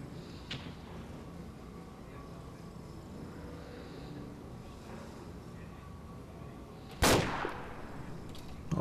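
Suppressing gunfire aimed at enemies during a co-op Black Ops mission in the video game Arma 2. Faint distant shots sit under a low background until a sudden loud burst of fire erupts near the end.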